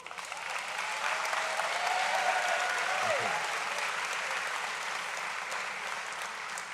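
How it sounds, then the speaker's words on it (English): A graduation audience at a high school commencement breaks into sustained, dense applause that fills the whole stretch, steady and loud, with a faint tonal whistle or ring briefly rising over the clapping. "who's going to get the biggest round of applause"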